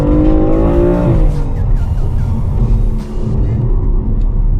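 A BMW M car drops two gears and accelerates hard, its loud engine note climbing in pitch, dipping sharply at the shift, then roaring on with heavy low rumble close by, with no talking.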